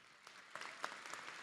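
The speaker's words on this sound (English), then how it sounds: "let's give her a round of applause" A commencement audience applauds in a large hall, a soft, distant patter of many hands clapping at low volume for a brief moment, with no speech over it.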